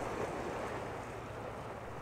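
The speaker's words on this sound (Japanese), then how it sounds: "海" Sea waves wash along a southern Kagoshima shore, a soft, continuous broadband rush mixed with wind buffeting, steady and fairly faint.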